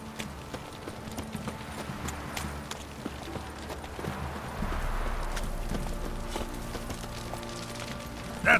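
Roach, the horse in The Witcher 3, gallops with a steady, rhythmic clip-clop of hooves, close and continuous, over a low ambient background that swells slightly partway through.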